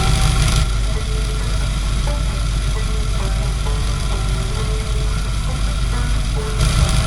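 Loud, steady idle of a car engine during ignition timing adjustment, a continuous rough mechanical rumble with faint ticking, close up and without talk.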